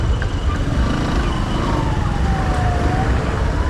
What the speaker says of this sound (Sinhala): අර ඇම්බියුලන්ස් එකක් එනවා අයියේ